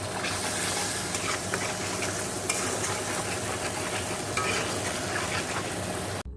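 Asafoetida dropped into hot oil sizzles steadily while being stirred, a close, continuous frying hiss at an even level throughout, with no talking.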